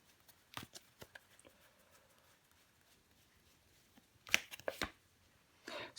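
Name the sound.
tarot cards being handled and laid down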